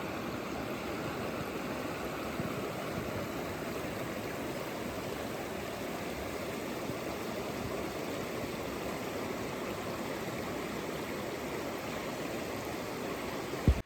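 A river flows steadily beneath houses at Tatariv, a broadband rushing wash of water that stays even and continuous throughout, close and fairly loud, with no voices over it.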